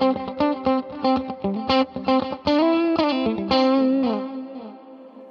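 Guitar notes played through a Fractal unit with heavy effects, plucked one after another, each ringing into a washy reverb tail that lingers and fades at the end.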